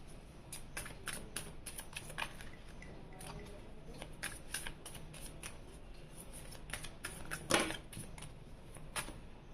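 Tarot cards being shuffled by hand, a rapid run of soft papery flicks and riffles, quiet and close, with no talk over it.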